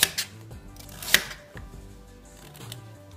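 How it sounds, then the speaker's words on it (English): A knife slicing vegetables lengthwise on a cutting board while preparing a quick roasted garlic hummus platter, giving a few sharp, separate chops and taps with short pauses between them, close and clear. "I take off the ends and I cut them lengthwise like this"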